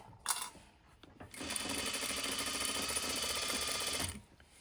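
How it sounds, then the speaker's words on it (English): A sewing machine stitches a rolled hem in one steady, continuous run of about three seconds, loud and close, preceded by a few brief handling clicks. "Sew it down and stitch."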